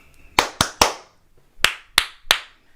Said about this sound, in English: Can you both give me 3 claps?